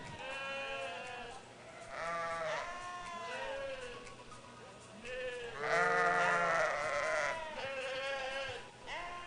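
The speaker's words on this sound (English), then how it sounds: "we'll have comments on our last class of mature breeding ewes from Judge Alan Brakey" Mature breeding ewes, two-year-olds with twins, bleat repeatedly at a 4-H beef and sheep show in Olds, Alberta, several overlapping calls near and loud, the loudest burst midway through.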